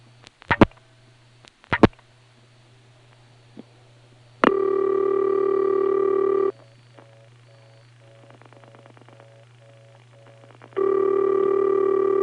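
Telephone dialing into a 1977 TSD step-by-step exchange: a few clicks and pops from the handset, then a steady tone, a run of rapid dial pulses, and the tone resuming.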